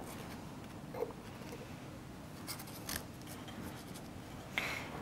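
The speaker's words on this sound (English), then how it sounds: "these pens really make a noise on the paper" Marker pens scratch across paper while painting, giving a few faint, brief rasping strokes over quiet room noise with no talking.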